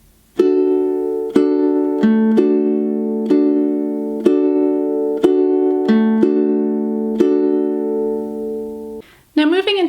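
Ukulele fingerpicking pattern for a song brought up to song tempo, a steady run of evenly spaced plucked notes with sustained ringing tones, close and clear, ending with a short breath of noise.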